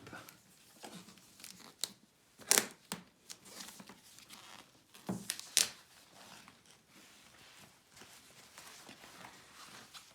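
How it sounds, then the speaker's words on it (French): Packaging of a JVC DLA-N7 projector being torn and handled during unboxing, faint intermittent rustles and a few sharper tearing bursts spread over ten seconds in a quiet room. "nous allons procéder à la traditionnelle déballage"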